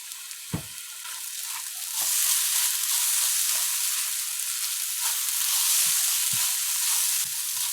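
Fried rice with cashews sizzling in a pan, a steady loud frying hiss throughout with several soft stirring scrapes and clinks of a utensil against the pan.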